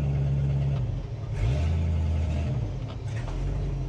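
A Chevrolet Impala pulls away on a test drive, its engine humming steadily close by and rising in pitch as it accelerates, with a couple of faint knocks in the cabin.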